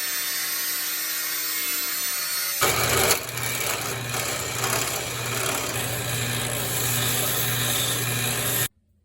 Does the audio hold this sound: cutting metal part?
yes